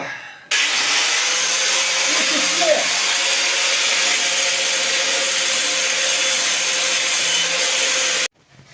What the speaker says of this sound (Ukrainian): Зараз у нас дві болгарки, от такий круг ми зачищувальний поставили і зараз будемо коротше, шліфувати